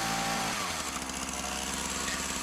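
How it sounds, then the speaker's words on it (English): A chainsaw engine roars steadily at close range, revving slightly as it cuts notches into a wooden post above chest height, with a constant high buzzing drone. "the chainsaw was going to be much easier for these notches"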